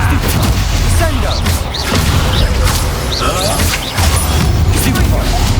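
Spell casting and magical blasts from Hogwarts Legacy, a rapid series of whooshing zaps and booming impacts with mechanical clatter, mixed with shouted incantations.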